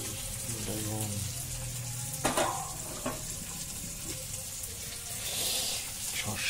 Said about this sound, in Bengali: আর এখন চিতল মাছের ভাজা হচ্ছে